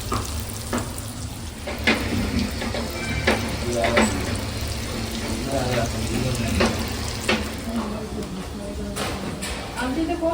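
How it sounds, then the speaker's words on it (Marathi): Continuous crackling sizzle of Bombay duck fish frying on a hot griddle over a low flame, with occasional scraping taps of a spatula and faint voices in the background. "फ्राय चालू आहे बघा. हलक्या आगीवर."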